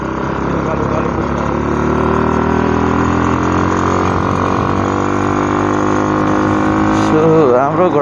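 A motorcycle engine runs on reserve fuel as though nearly out of petrol, giving a loud, steady drone close by that wavers slightly toward the end.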